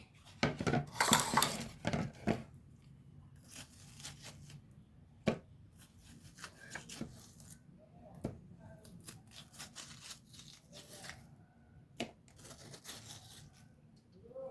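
Watermelon pieces scooped into a bowl in a kitchen: quiet, close scraping and irregular clinks of a spoon against a dish, busier at the start, then scattered taps and rustles.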